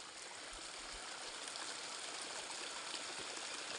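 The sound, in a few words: water flowing through a hillside farm field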